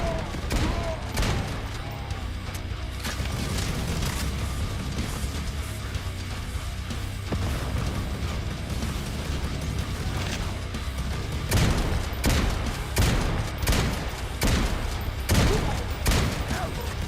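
Rapid volleys of gunfire and booming explosions pound continuously in the video game Necromunda: Hired Gun, growing into sharp repeated bursts toward the end amid busy game noise.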